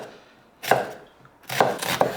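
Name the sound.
knife finely chopping a large onion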